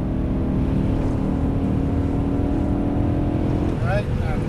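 A BMW M3 accelerating on a race track, a steady loud engine drone heard from inside the car, with an instructor talking over it.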